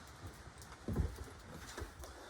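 Steady rain patters on a surface outdoors during a truck bedside panel install, with a few louder splashing impacts near the middle and a soft continuous hiss throughout.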